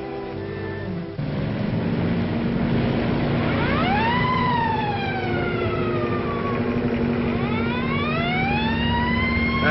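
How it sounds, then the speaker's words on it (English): A police motorcycle siren follows a car, starting up after a steady engine hum and then rising and falling in repeated loud wails over the continuing drone of the car. "There's a motorcycle cop following us."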